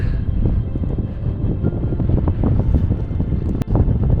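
Steady, blustery wind roars across the microphone with constant low rumbling gusts, loud and continuous, no voices, at a 1014-metre mountain viewpoint on Sljeme above Zagreb.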